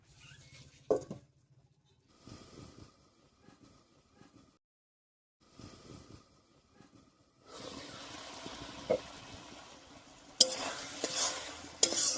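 Banana stem curry simmering in chicken broth in a covered pot, heard in uneven bursts of bubbling and sizzle separated by near silence, growing louder and denser toward the end with a sharp rattle, close and without talk.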